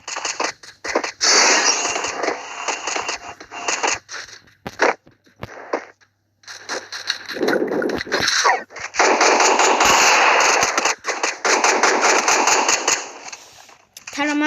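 Rapid automatic weapon fire from the Free Fire mobile battle game, loud dense bursts in two long stretches with brief pauses, overlapping with a voice talking throughout.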